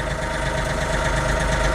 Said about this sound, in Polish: z holendrami sobie jeżdżę traktorzyną po osiedlu